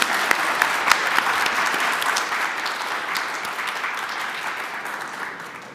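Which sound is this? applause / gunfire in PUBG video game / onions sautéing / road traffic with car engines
applause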